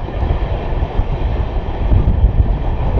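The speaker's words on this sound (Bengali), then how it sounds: "Kolkata Sairang express Nasipur bridge cross করছে।" Kolkata-Sairang Express crossing the Nasipur rail bridge, a steady loud rumble of rolling wagons with dense low-end roar throughout, no voices.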